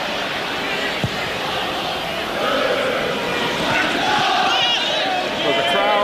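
Anxious football crowd at Villa Park during a 1993 Aston Villa versus Manchester City match: a steady, dense roar of many voices, loud and continuous, with a commentator talking over it.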